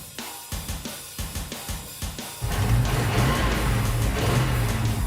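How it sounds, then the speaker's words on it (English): Ford truck engine cranking in short bursts, then catching and running loud and steady with a rough carburetor backfire as it starts; no talking over it. "That was a carb backfire."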